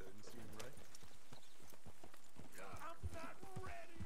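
Horse hooves clip-clopping in Red Dead Redemption 2, a quiet, steady run of hoofbeats with faint game sounds and a voice talking over them.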